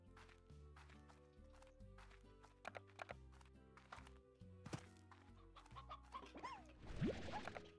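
A chicken clucks briefly in Slime Rancher over steady, looping game music, with light clip-clop footsteps and a few chimes; the clucking sits near the end and is partly buried.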